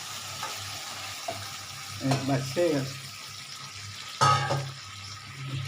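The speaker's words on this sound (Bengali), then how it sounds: "আরেকটু জল লাগবে বন্ধুরা এই আলুটা সেদ্ধ হবে তো একটু জল দিচ্ছি" Water is poured into a pot of simmering potatoes in a couple of short splashy bursts over a steady background sizzle, with occasional clinks nearby.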